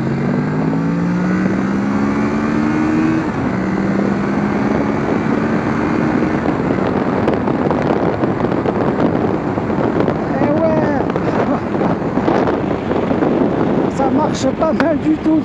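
A Kawasaki Ninja 650 engine revs and climbs through the gears on the road, its rising drone loud and continuous under heavy wind buffeting while a rider talks over it.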